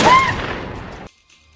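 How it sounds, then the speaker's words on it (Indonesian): Gunshot in a film scene: one loud, sharp report with a decaying tail that cuts off abruptly, followed by near silence. "ketika menembak untuk kedua kalinya, pelurunya ternyata asli"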